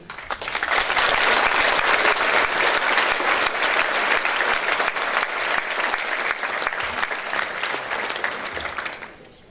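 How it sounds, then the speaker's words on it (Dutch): Warm applause swells up quickly and holds strong for several seconds, a full concert audience at a brass band anniversary clapping, before fading out at the end. "Ik doe een hartelijk applaus voor Daphine."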